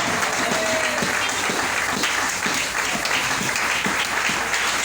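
A church congregation bursts into sustained applause to acclaim God, a dense, steady roar of clapping hands filling the room for the whole stretch, with no break and no talk.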